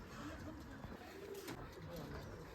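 Soft coos from young Giribaz pigeons repeat at close range over a steady background hiss, with faint murmuring voices underneath.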